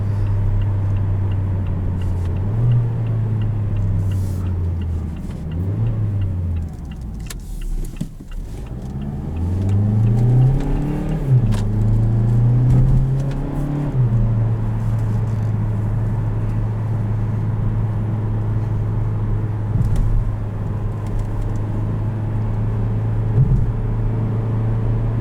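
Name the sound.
2017 Mazda CX-3 engine holding revs, 6-speed automatic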